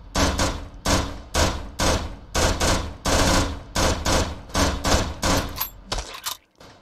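Rifle fire in a video game, a run of loud, close bursts of repeated shots with short pauses between them, ringing metallic tails, and no talking over it.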